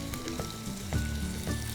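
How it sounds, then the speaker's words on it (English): Garlic hits hot oil with sputtering cumin seeds while cooking Sindhi methi macchi, a loud continuous sizzle with scattered sharp crackles and pops, close up and without talk. "I'm going to add the garlic"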